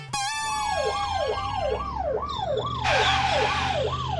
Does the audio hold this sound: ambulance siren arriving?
yes